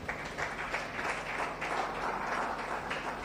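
A church congregation applauds to acclaim the Lord, steady dense clapping filling the room throughout with no pauses.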